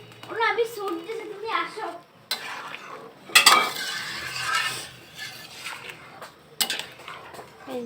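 Turnip and potato curry is stirred in a pot, with clattering scrapes of a spoon against metal and a faint sizzle, broken up by stretches of people talking nearby.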